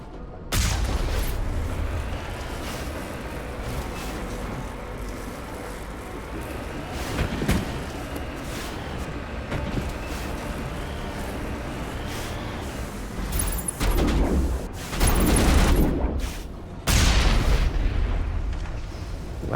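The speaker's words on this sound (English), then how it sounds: "Why are you shooting at a tank?" Heavy gunfire and explosive booms against a tank in the video game Mass Effect, a dense, continuous barrage with louder bursts near the end and some talk mixed in.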